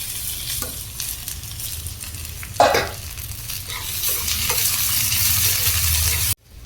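Curry leaves, potato and tomato frying for puffed-rice upma, steady close sizzle with scraping stirs and one sharp louder clatter midway, cutting off abruptly near the end.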